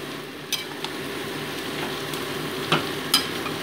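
Mixed winter seasonal vegetables and cauliflower sautéing in a pan, a steady close sizzle with a few sharp scrapes and taps of a spatula, and no one speaking.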